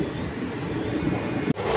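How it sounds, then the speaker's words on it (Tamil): Two trains standing side by side at Tiruvallur station give off a steady, droning idle hum with a faint tone, broken by a brief dropout near the end. "ரெண்டு ட்ரெயின் பக்கத்து பக்கத்தில் நிற்கிறது."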